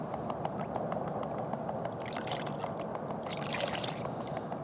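Water sloshing in a gold pan of difficult ore as it is tilted and tapped, close and fairly soft, with light drips and a run of sharper taps near the end.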